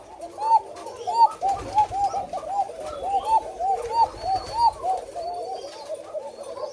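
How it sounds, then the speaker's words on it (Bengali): White Koka pigeons coo close by, a run of repeated soft, rolling calls overlapping one another at a steady pace. "এই যে এটা হচ্ছে আমার সাদা কোকা দেখেন ডাক দেখেন"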